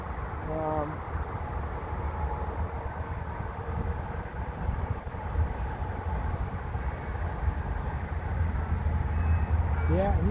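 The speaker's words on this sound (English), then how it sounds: "I believe that's a Norfolk Southern train." A Norfolk Southern train rolls slowly past on a rail line at Canal Ridge Road, giving a continuous low rumble and wheel noise that builds gradually, with brief horn-like tones near the start and end.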